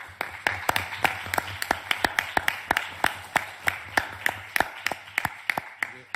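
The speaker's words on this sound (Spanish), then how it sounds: "yo les pido un aplauso para CESIA por el trabajo que están haciendo" Audience at an AMADIS 2016 disability conference session applauding CESIA, with sharp claps sounding in a steady rhythm for about six seconds over a low room hum, moderately near.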